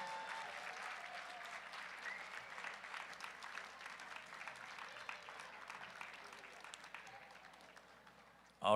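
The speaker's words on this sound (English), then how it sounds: "now give them all a round of applause" An audience at a college national competition gives the athletes sustained, even applause at a distance, a soft steady wash of many hands that ends abruptly.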